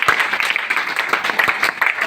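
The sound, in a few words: loud applause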